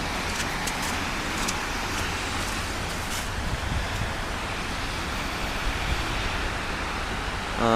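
A car passes on the road, heard from inside a taxi as a steady broadband roadway rumble with wind. The noise stays even throughout and rises slightly at the very end.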